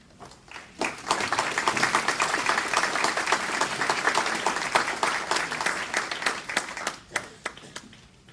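Sustained audience applause at a civic election forum opening ceremony, dense clapping from a full room lasting several seconds before thinning out into scattered claps near the end.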